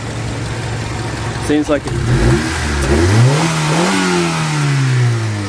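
Honda Civic EG hatchback engine running near at hand, idling steadily, then revved twice in quick succession with the pitch climbing and falling back; a voice speaks briefly over it.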